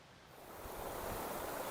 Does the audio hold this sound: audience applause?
no